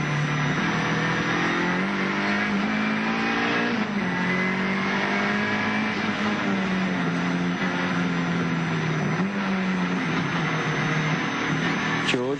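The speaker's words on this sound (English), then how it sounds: "busy at work in the Nissan Turbo" A 1983 Nissan Bluebird Turbo race car engine heard from inside the cockpit at Bathurst's Mount Panorama, droning loudly and continuously with pitch rising and dipping through gear changes.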